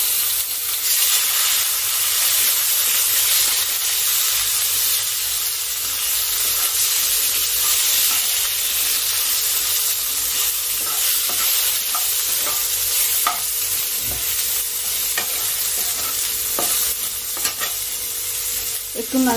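Tomato fries in a hot pan for a Bengali shing fish curry with raw banana, a steady loud sizzle and hiss with occasional scraping stirs throughout.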